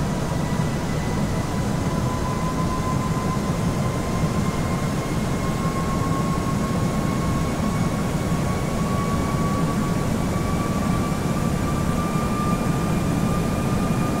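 Steady, loud roar of an airliner on final landing approach into Palma, continuous broadband engine and airflow noise with faint whining tones throughout and no talk.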